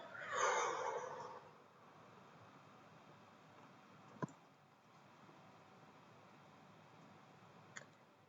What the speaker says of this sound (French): Prends une profonde respiration.